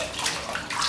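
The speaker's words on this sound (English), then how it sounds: "I get a little hot water" Hot water runs steadily from a tap for shaving, a brief, close, continuous splashing rush.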